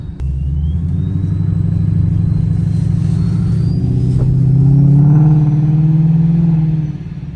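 A 1000 hp Ford Mustang engine revs up close and loud, its deep throbbing rumble climbing in pitch over several seconds before easing off near the end, with no talking.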